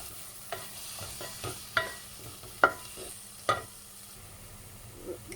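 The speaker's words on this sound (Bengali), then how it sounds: "এখন সব কিছু মিক্স করে নেব। সেই সাথে দিয়ে দিয়েছি চিংড়িগুলা।" Shrimp and star beans with panch phoron being stirred in a frying pan: soft, steady sizzle under a run of sharp scraping clatters from the spatula, a few louder strokes standing out, no talking.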